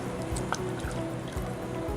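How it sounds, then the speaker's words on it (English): Drops of water fall into dough being worked by hand, producing soft, wet drips and squishes close by, repeated irregularly. "Just give me a little more water in there, just a drop more."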